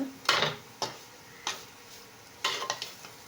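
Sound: stirring carrot stir-fry with chilli powder in pan

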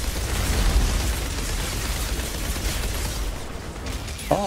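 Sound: explosions and gunfire in video game Outriders

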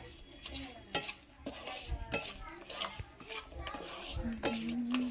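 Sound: stirring puliyogare powder in tempering pan

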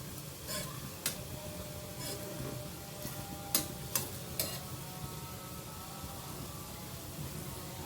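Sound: potato slices frying in a pan

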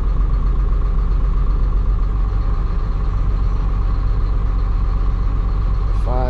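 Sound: Caterpillar 3126E diesel engine idling with one injector cut out

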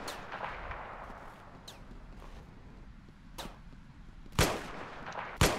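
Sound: musket gunfire in video game Ravenfield

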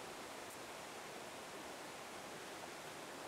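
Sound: waterfall cascades

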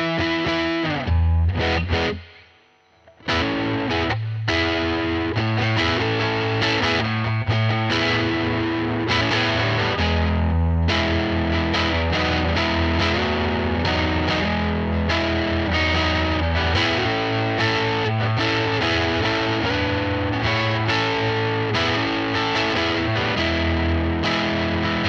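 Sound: bass guitar through overdrive distortion pedal

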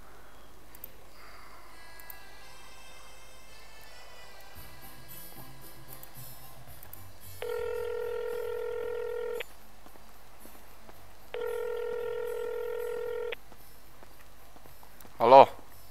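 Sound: telephone being dialed to call Gogo

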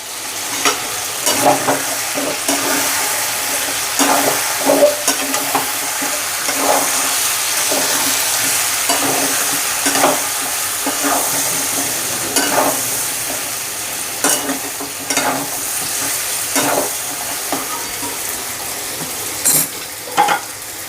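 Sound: stirring chicken curry in a pan

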